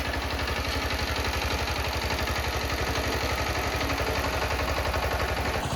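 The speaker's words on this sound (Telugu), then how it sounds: "పొలాల్లోకి వెళ్తుంది ట్రాక్టర్." A tractor heads out into paddy fields for puddling work, its engine chugging in a steady, close, rhythmic pulse that runs continuously and cuts off just before the end.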